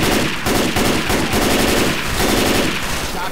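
Loud, continuous automatic gunfire from the Left 4 Dead 2 shooter game, rapid overlapping bursts filling the whole stretch with dense, close rattling shots.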